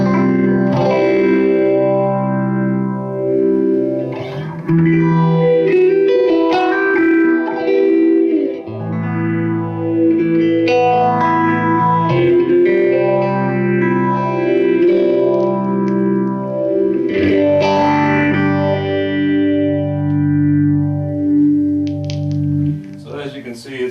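Electric guitar through a handwired Marshall Plexi clone 18-watt amplifier, sustained distorted chords and single-note lines with a lush chorus-like, reverberant tone, played steadily and loud for the whole stretch.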